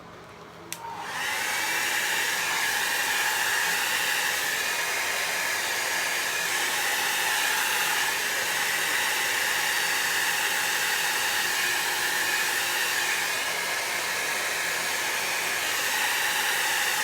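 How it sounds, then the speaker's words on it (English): A hair dryer blowing on low heat to dry alcohol ink artwork switches on after a brief quiet and then roars as a loud, steady, close whoosh without pause. "I switch that over to the low heat for just a second, finish drying that a little bit."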